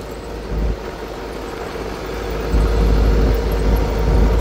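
A car pulls away and drives off toward a farm, its engine a steady low rumble that grows slightly louder and fuller partway through, with no talking.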